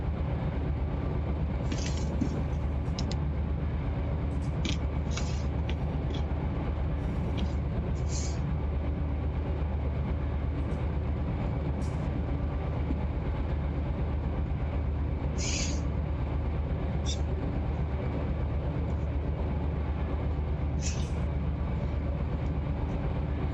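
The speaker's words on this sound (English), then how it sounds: "We're supposed to be a grain train, but we're carrying ethanol tank cars." A BNSF freight train in the Run8 train simulator game, a grain train hauling ethanol tank cars, gives a steady loud rolling rumble with faint clicks and squeals throughout and no voices over it.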